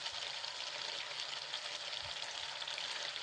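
Pumpkin and potato pieces frying with salt in a village kitchen, giving a steady, even sizzle throughout with faint low clatter underneath and no talking.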